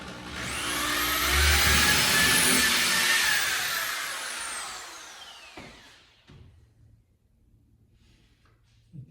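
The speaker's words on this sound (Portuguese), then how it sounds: "esse furinho que eu estou fazendo com a broquinha fininha é só para fazer a marcação na parede" A power drill with a thin bit bores a small pilot hole into a wall for a shelf made from leftover materials. The whining spin lasts about five seconds, then fades into a few faint knocks.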